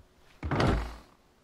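A door opens in the horror game Silver Chains with a single solid thunk and a short low rumble that fades over about half a second, close and alone.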